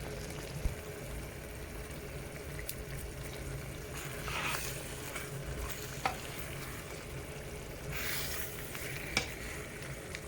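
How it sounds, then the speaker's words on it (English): A pot of ata-dindin, a no-tomato pepper stew, simmers with a soft, steady bubbling hiss, faint and low, broken by a few light clicks and brief louder bursts. "leave the stew to simmer for like 5 minutes"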